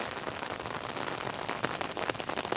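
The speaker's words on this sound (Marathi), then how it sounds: "मस्त पाऊस लागतोय आणि मस्त धुका धुका आलाय सर्व" Steady rain falls in a misty village countryside, a soft, even hiss of drops on surfaces with scattered faint patters, continuous and moderately distant, with no voices.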